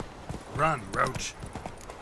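The horse Roach galloping in The Witcher 3: quick rhythmic hoofbeats clop beneath a voice that speaks over them in the foreground.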